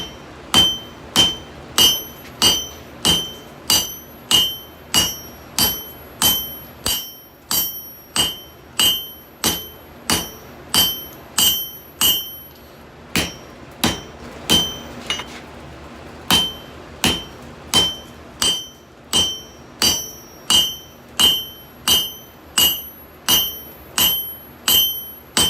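Hand hammer striking a canister Damascus billet at welding heat in a coal forge, loud sharp ringing blows in steady rhythmic runs with brief pauses between them.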